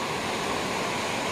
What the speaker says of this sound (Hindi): ये दो नदियों का संगम है।